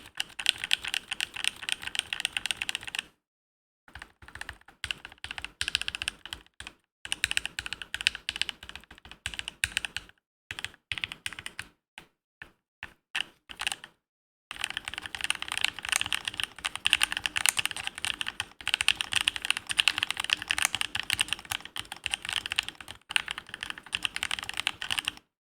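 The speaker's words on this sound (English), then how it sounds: "This is my first all acrylic keyboard." Fast, steady typing on an all-acrylic mechanical keyboard, a dense close clatter of crisp key clicks in long runs broken by brief silent pauses, with no voices.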